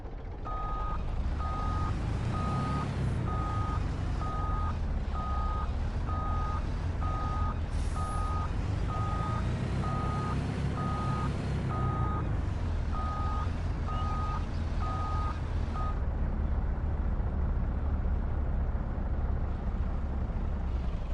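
A semi truck in Farming Simulator 22 reverses with a steady train of evenly spaced high beeps over a continuous low diesel rumble, the beeping stopping near the end while the engine drone carries on.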